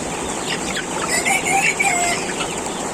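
Young chicks from brooding hens inside a chicken coop, a busy chorus of close, high peeping and clucking with brief flutters of wings, no talk over it.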